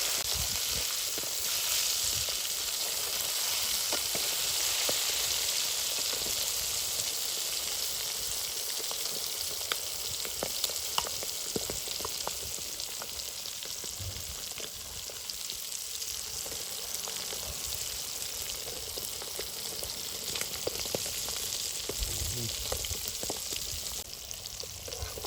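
Quail sizzling as it fries in a pan, with a steady, close crackling and hissing that runs throughout without any talk.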